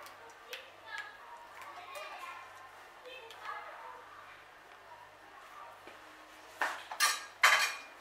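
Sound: mixing biryani ingredients in a pot

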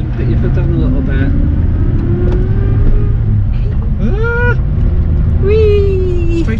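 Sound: Rover P4 car accelerating in second gear

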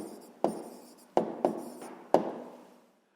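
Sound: writing an answer by hand

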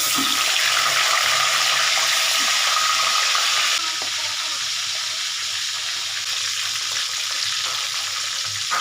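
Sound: fish frying in oil

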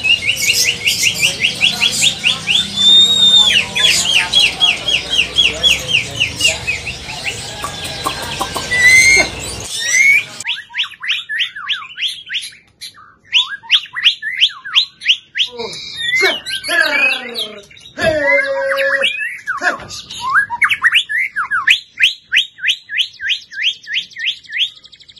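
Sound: white-rumped shama singing

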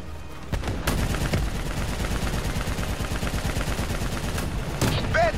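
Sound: gunfire in video game Call of Duty: Black Ops III

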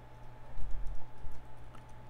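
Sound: typing on a new computer keyboard

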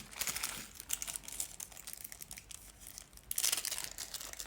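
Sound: screws poured from a plastic bag onto a table

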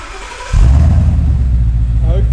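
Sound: Ford Mustang cold start with Remus cat-back exhaust

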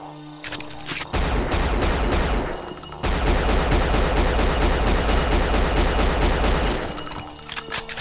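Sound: gunshots in video game Unreal Gold

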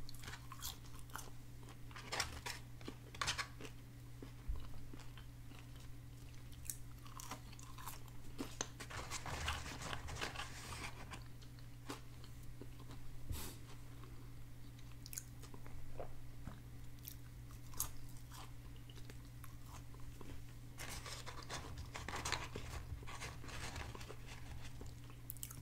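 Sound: eating Arby's roast beef sandwich and curly fries

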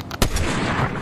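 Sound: sniper rifle shot in Fortnite video game

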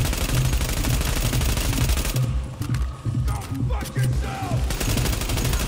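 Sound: gunfire at an enemy in The Division Underground video game

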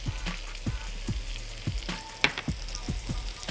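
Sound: garlic frying with onions in pan

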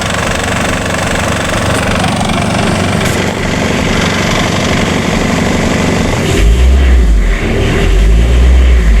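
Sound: engine being warmed up

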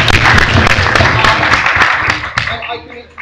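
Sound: debate audience clapping for speaker

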